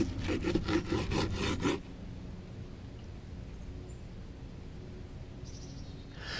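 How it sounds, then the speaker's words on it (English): A knife saws through smoked beef brisket from a Pit Boss pellet grill, with a rapid run of rough, rhythmic rasping strokes for about two seconds, close and loud, then quiet room tone. "we're just gonna slice a little bit into the flat here"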